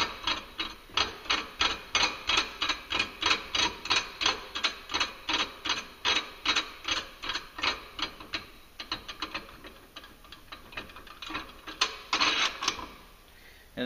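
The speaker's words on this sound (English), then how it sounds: "Thread your nut all the way down." A ratchet clicks steadily as a nut is threaded down onto the clutch adapter of an EPI Performance kit for a 2014-15 Arctic Cat 700 Wildcat Trail/Sport. The rapid, even ratcheting strokes are close and continuous, then turn more irregular toward the end.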